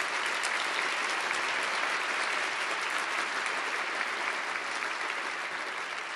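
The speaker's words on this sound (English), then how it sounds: "Please join me in a round of applause for them." Dense, sustained applause from a large audience at a 2012 legislative briefing, even and fairly loud throughout with no talking over it.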